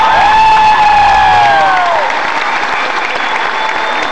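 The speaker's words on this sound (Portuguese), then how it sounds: "Cadê a aplauso de você pra nossa TV Record?" A crowd at a concert in Porto, Portugal, applauds and cheers loudly and steadily, a dense roar of clapping and shouts under a fading, sliding tone.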